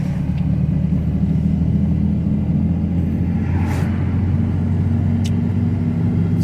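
Heard from inside a moving 10th-generation Ford F-150 pickup, a steady road rumble and engine drone fills the cabin while a Land Rover Defender passes by, with no talk and a low, continuous tone throughout.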